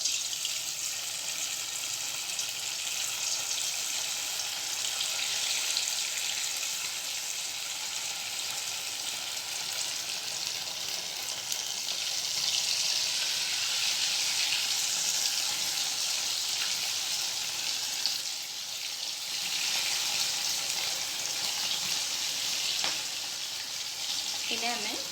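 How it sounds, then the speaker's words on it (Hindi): Paneer balls deep-frying in hot oil over a medium flame, a dense continuous bubbling sizzle that holds steady and fairly loud for the whole stretch, with no voices. "इन्हें हमें गोल्डन ब्राउन होने तक मीडियम गैस पे तलना है"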